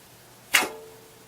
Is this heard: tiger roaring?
no